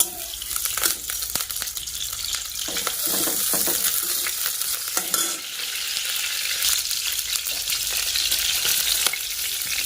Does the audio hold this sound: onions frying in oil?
yes